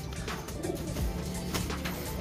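Pigeons coo in soft repeated throaty calls close by, several birds overlapping against a steady background murmur, no talking.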